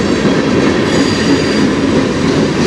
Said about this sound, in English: The other one behind it that's going by is an industrial train.